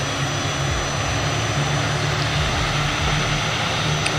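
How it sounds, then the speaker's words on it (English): Engine and propeller noise from an ATR-72-600 turboprop in Microsoft Flight Simulator, a steady droning roar with a low rhythmic throb, continuous and fairly loud throughout. "See how you hear the prop kicking?"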